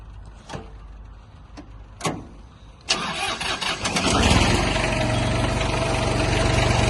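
A few clicks and knocks, then a Mitsubishi MT165 mini tractor engine cranks and catches, settling into a steady, fairly loud idle that continues to the end.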